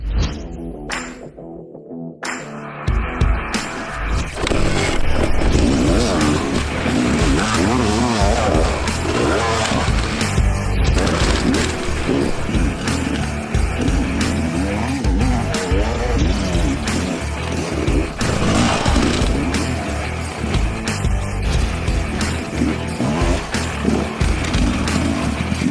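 A Rieju MR 300 Racing enduro motorcycle engine revs repeatedly, loud and close, its rough two-stroke-style roar rising and falling in bursts over about twenty-five seconds with no talk.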